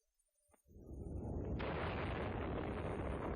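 A Soviet atomic bomb test explosion swells from near silence into a deep, continuous, distant roar that grows stronger and stays loud and steady.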